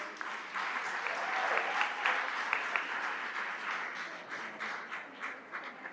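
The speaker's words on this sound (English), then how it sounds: "Let's give her a round of applause, even though she's not here" At a women's excellence awards ceremony, the audience gives a round of applause for an absent honoree, continuous dense clapping that swells early and tapers slightly toward the end.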